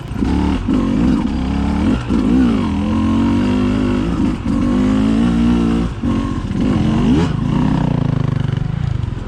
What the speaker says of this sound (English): it keeps the bike running, and I can get up around obstacles